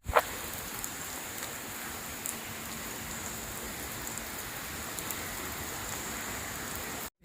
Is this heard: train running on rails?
no